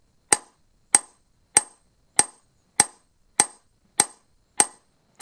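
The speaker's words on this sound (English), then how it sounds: "And we're doing the pull-in hammer action that I described." A hammer peening a blade with a pull-in hammer action, striking nine sharp, even metallic blows at a steady rhythm of roughly one every 0.6 seconds, close and clear with nothing else heard.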